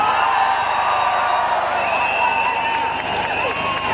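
Rally crowd at an End Austerity Now event applauding and cheering for Owen Jones, a dense, loud wash of clapping with whoops and shouts running steadily throughout, easing slightly toward the end.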